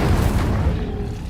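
A fire spell cast in Hogwarts Legacy, a loud continuous whooshing roar of flame with a deep rumbling body, sustained and close with no talk.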